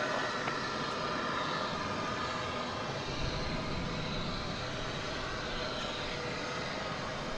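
An airliner taking off at DFW Airport, a steady, loud broadband engine roar that holds throughout with no talk over it.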